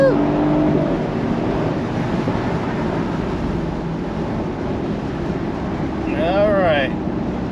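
Mercedes SL550 roadster with the hardtop off accelerating hard, a steady broad roar of engine and rushing wind running throughout at close range, with a brief rising whine near the end.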